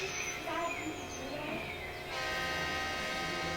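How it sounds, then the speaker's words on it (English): A train approaching from a distance, its horn sounding in long steady tones over a rumbling rail roar that grows louder partway through, heard outdoors with faint birds. "we're gonna watch the train coming in from that way"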